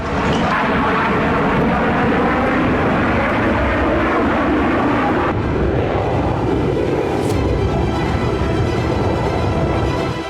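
Roaring US military jet engines of F-18 fighters and a B-2 bomber flying overhead during air strikes over Yemen, a loud, steady rumbling drone that fills the whole stretch with no break and no voices.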